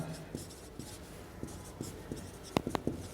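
Chalk or marker taps and strokes on a classroom board during a Hindi physics lesson on mirrors, a run of short, light ticks closing with a few sharper, louder strokes, alone and close.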